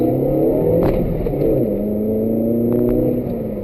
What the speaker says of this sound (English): We can give this engine a little boost